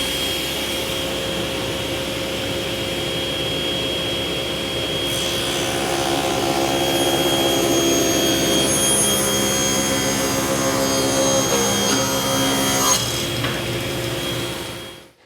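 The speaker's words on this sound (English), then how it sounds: "I'll go ahead and cut this bottom rail to its final 1-inch width." A power saw rips a wooden bath vanity bottom rail to a 1-inch width, a loud continuous whining roar that rises as the blade bites into the wood, then cuts off abruptly at the end.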